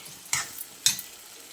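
Onion with ginger-garlic paste in a pan, heard as two short, sharp stirring scrapes with a brief sizzle, close and otherwise quiet, with no voices.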